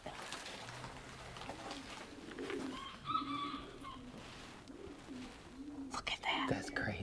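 Victoria crowned pigeons at a nest of sticks and bamboo give soft, low, deep coos in a slow repeating series, moderately near, over a busy background with some whispery noise.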